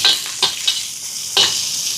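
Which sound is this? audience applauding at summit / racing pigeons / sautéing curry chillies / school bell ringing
sautéing curry chillies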